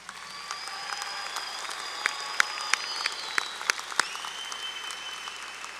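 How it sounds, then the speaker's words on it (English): Audience applause fills a college graduation ceremony, a steady dense wash of many hands clapping at moderate distance, with a few sharper claps and faint whistles standing out. "let's give them a round of applause"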